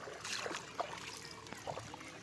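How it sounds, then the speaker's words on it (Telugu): Water trickles and flows through a crop field, a faint, steady wash with small irregular splashes. "అక్కడ నుంచి వస్తున్నాయి నీళ్ళు మొత్తం."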